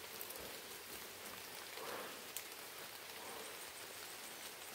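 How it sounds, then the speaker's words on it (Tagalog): Heavy rain falls steadily, a dense even hiss of drops on surfaces at low level with no voices. "umulan naman dito ng malakas"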